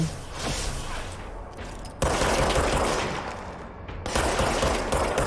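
Enemy gunfire in the video game Control, dense bursts of rapid shots forming a continuous loud fusillade, with a sudden jump in intensity partway through and again near the end, no talking.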